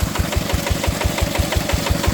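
An old tractor engine converted into a water pump runs steadily up close, a rapid regular low thumping beat with a mechanical clatter on top, loud and continuous with no talk.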